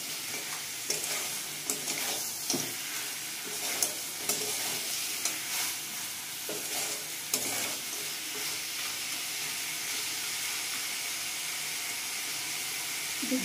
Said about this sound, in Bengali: মাথাটা দিয়ে একটুখানি কষিয়ে নেব।